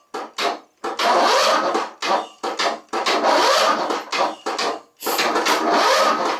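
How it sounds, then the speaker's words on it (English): A Toro Timecutter zero-turn mower with freshly added gas and a weak battery, its engine cranking loudly and close in repeated grinding bursts separated by short pauses, without catching. "It's going to take a little bit probably to crank her up to fire up, because I just literally put the gas in it."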